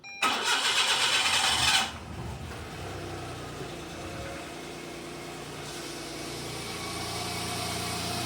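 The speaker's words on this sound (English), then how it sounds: "I'm going to start it up, make sure it's not leaking from that filter I used." A Suzuki Jimny JA22W engine cranks briefly with a loud starter whir, catches, and settles into a steady, even idle that continues close by without voices.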